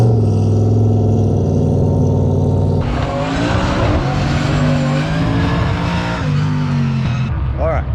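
A race truck runs an autocross lap, its engine loud and close, revving and shifting with tire squeal through the turns, and a voice talks over it.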